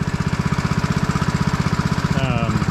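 A John Deere zero turn mower that had been smoking from oil burning off runs with a fast, steady, loud thumping beat close by, with a brief thin tone near the end.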